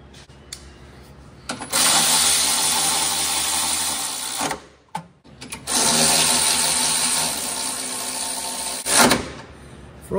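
A power ratchet on a 2006 Chevrolet Silverado truck runs in two long, loud, steady whirring bursts while removing bolts. A short pause separates the bursts.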